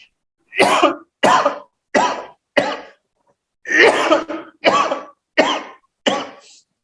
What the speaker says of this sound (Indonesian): Maaf, batuk dulu.